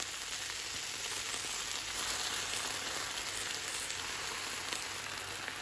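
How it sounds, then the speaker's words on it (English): Noodles with chicken and vegetables sizzle in a hot pan while being stir-fried for chow mein, a constant dense crackle with no break. "Now going with the chicken and the vegetables back into the pan. We're just going to toss them very quickly for about 15-20 seconds"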